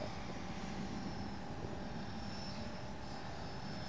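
An Airtech Mezzo RC model airplane flies, giving a steady, faint motor drone that stays even throughout with constant broadband outdoor noise.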